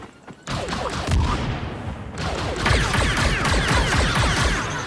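Grenade exploding during a Star Wars Outlaws shootout, a sharp burst followed by a rattling fusillade of dense gunfire and thuds, loud and continuous throughout, no one talking.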